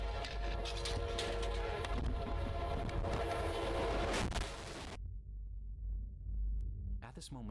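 A train rolls in with a loud, heavy rumble and rattling that cuts off suddenly, followed by a brief high squeal.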